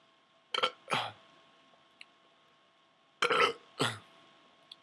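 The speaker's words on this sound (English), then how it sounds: "Foamy burps." Four loud, close burps come in two quick pairs, with silence in between, from a man drinking a 40 of St. Ides malt liquor at home in the morning.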